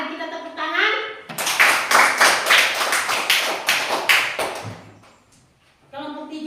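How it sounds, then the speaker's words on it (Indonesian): A group of people clap hands in a classroom-style gathering, a loud, dense burst of applause lasting a few seconds, with voices before and after. "mari kita tepuk tangan"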